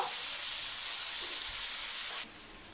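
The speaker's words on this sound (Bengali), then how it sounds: "একটু নেড়ে চেড়ে একটু ভেজে রাখবো।" Pumpkin, potato, malabar spinach stems and pointed gourd sizzle steadily in oil in a pan, a constant loud frying hiss that drops away abruptly near the end.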